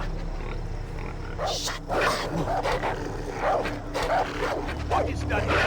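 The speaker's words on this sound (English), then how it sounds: "What is that dog going off about?" A dog barks in the video game Far Cry 3, repeated yips and barks over a dense game soundscape, with voices talking over it.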